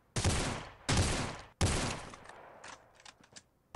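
Gunfire in the Rules of Survival video game: three long, loud bursts of rapid automatic shots, then a scattering of shorter, fainter bursts and single shots.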